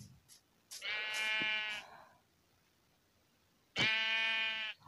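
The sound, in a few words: sheep bleating in the video game Minecraft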